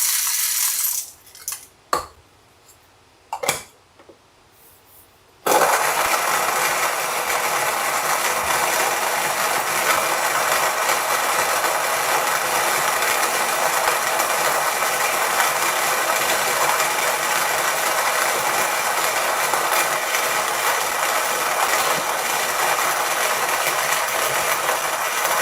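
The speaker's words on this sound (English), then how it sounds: "I'll manually grind it." Coffee beans for espresso being ground in a hand grinder, a few faint clicks and rattles first, then a loud, steady whirring grind that runs on without a break.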